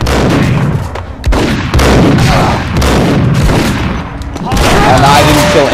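Enemy gunfire in the video game Max Payne, loud, dense bursts of shots and booming impacts in rapid volleys with short gaps, while a player talks over the action.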